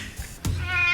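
A cat gives one clear, close meow with a rising harmonic tone, preceded by a faint soft sound, lasting under a second.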